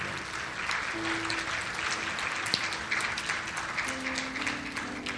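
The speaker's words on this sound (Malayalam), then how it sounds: "നല്ലൊരു ക്ലാപ്പ് അവർക്ക് കൊടുത്താലോ?" Church audience applauding parents at a Holy Communion celebration, a steady, even crowd clapping that carries through the whole stretch over a faint background hum.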